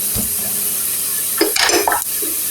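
Whole cumin seeds go into hot oil for a bottle gourd leaf and taki fish mash. A soft sizzle is followed midway by a brief burst of louder crackling and utensil clatter, with no talking.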